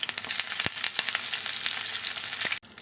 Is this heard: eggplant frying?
yes